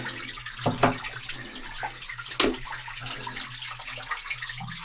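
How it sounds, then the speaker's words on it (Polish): Water swishing and gurgling as it drains away from washed paving stones, with a couple of louder sloshes and a low steady hum underneath. "Woda schodzi."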